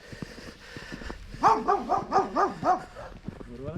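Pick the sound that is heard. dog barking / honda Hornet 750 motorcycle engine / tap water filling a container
dog barking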